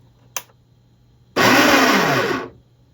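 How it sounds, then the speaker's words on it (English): The coffee grinder of a Breville Barista Express espresso machine whirs loudly for about a second after a brief click, then spins down and stops. "We have a grinder."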